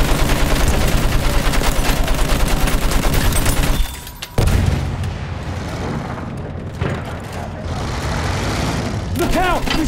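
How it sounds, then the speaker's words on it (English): Enemy machine gun fire in the Battlefield 1 war shooter, loud rapid bursts that pause briefly near four seconds and then resume amid battlefield noise, with voices shouting over the fire. "Look out! Machine gun!"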